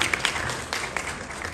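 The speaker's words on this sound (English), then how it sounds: "A round of applause for her, ladies and gentlemen." A crowd applauds a Ghana High Court judge at a Goodwill Ambassador swearing-in ceremony, a steady, moderately quiet wash of clapping with a few sharper claps standing out early on.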